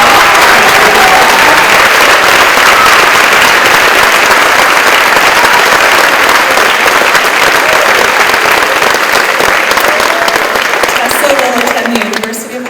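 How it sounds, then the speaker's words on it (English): Loud, sustained audience applause fills a scholarship awards ceremony hall, steady dense clapping from a large crowd without pause, thinning slightly near the end. "please hold your applause till the end"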